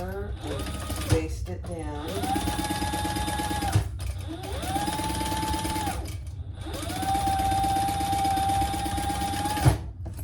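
A sewing machine basting down a folded zipper pocket runs in three long steady bursts with short pauses between, a close whirring drone with light clicks as each run starts and stops.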